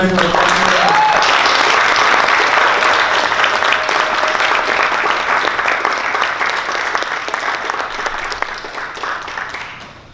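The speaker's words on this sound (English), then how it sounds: "round of applause for our committee members" An audience gives committee members a loud, sustained round of applause that fills the room at an event, then slowly tapers off near the end. A voice is heard briefly at the start.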